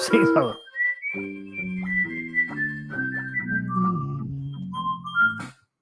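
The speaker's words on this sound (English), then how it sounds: "The whistling is great." Melodic whistling tones from an arcade video game, a bright stepping tune over a low chiptune-like accompaniment, with a short burst of other sound at the start.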